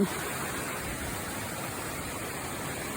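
Steady broadband rush of water from a waterfall, a seasonal run-off cascade at Nong Ya Plong in Phetchaburi, continuous and even at moderate level with no voices.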